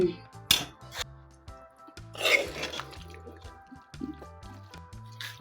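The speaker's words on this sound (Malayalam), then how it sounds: "നെല്ലിക്കാനെ നമുക്ക് ഇങ്ങോട്ട് തട്ടി കൊടുക്കാം" Boiled, deseeded gooseberries (nellikka) are tipped into a pan for pickle, giving a few wet squishy plops and scraping bursts over steady background music.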